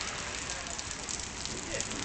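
Heavy rain pours over Ocean City, NJ, a dense, unbroken hiss of falling water that stays steady and fairly close throughout, with no one speaking.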